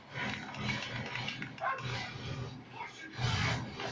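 A few short dog barks ring out in Call of Duty: Ghosts amid a busy, noisy background with murmuring voices.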